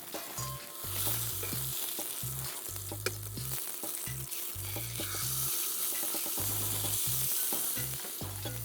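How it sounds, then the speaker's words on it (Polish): Pork loin sizzles and spits in a frying pan with only a little oil, a steady crackling fry that carries on throughout without any talk. "Tłuszcz podczas smażenia powolutku będzie się wytapiał, więc nie daję z dużej ilości oleju przed smażeniem."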